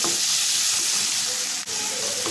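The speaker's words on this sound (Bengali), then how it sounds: "একদম পেঁয়াজটা এখন ভাজা ভাজা হয়ে গেলে" Onions sizzle and fry in hot oil in a home kitchen, a steady, close crackling hiss that runs unbroken with one brief dip and no talking.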